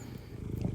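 A house cat purrs up close in a quiet room, a steady low rumbling that pulses softly and evenly through the whole moment with no other sounds.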